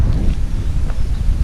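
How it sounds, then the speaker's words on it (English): Strong coastal wind buffets a GoPro microphone at Ravenscar, a loud, continuous low rumble with gusty surges throughout. "it's really windy today at Ravenscar"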